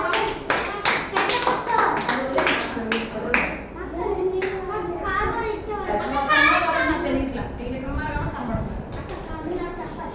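Children clap their hands in a bright, quick burst of sharp claps up close, followed by children chattering and talking over one another.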